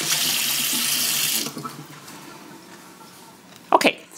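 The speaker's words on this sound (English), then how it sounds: "So I'm just gonna wash my hands real quick" Water from a kitchen tap splashes steadily over hands being washed, then eases into softer trickling, and a brief clatter or squeak near the end suggests the tap being shut off.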